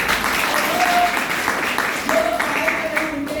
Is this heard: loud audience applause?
yes